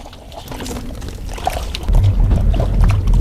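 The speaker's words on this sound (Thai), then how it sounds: "เสร็จแล้วก็ใส่น้ำลงไปเลยครับ" Water pours and sloshes into a bowl of raw chicken skin, a loud close gushing that grows heavier toward the end.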